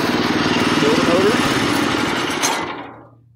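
A Predator 212cc engine fitted to an antique tractor runs with a steady low chugging throb, loud and close, under a man's speech, then cuts off and winds down to silence near the end.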